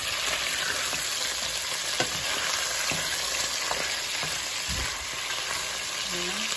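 Beef chunks fry in their own melting fat in a stew pot, a loud, dense, continuous sizzle with occasional soft stirring knocks.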